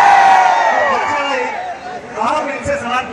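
A large outdoor rally crowd at a rapper's performance screams and cheers loudly, a dense roar of many voices swelling and falling, with shrill yells rising out of the mass near the end.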